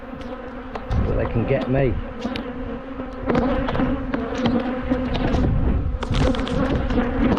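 Bees from apiary hives buzz loudly and continuously close by, a dense droning hum with a brief spoken phrase mixed in partway through.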